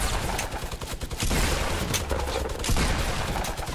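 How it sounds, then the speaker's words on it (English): Fortnite gunfire crackles in bursts from more than one direction, loud and dense with a couple of heavier booming shots standing out over the rest, and no talk is heard over it. "I'm getting shot at from two directions."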